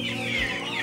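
A young gosling gives soft, high, continuous chirping peeps close by, overlapping in a steady sweet stream with a little farmyard background.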